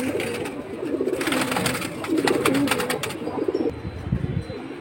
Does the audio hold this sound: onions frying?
no